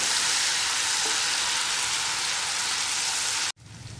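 A chilli pickle mixture sizzles loudly and steadily in a hot pan as its water cooks off, a dense hiss that holds throughout and then cuts off abruptly near the end, leaving a quieter hiss.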